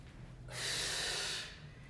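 A single long, forceful exhale during a dumbbell hip and leg mobility workout, with a breathy hiss that rises, holds for about a second and fades, close and fairly quiet.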